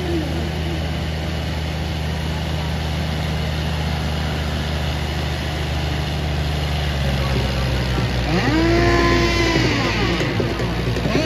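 A tractor engine idles close by at a tractor pulling contest in a steady, low rumble, with a voice briefly heard over it near the end.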